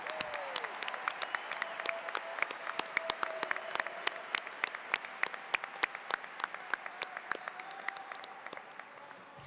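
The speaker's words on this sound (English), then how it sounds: "Please join me in giving them a round of applause." Scattered applause from a high school graduation audience fills a large hall, individual claps crisp and distinct against a steady crowd wash that lasts about nine seconds.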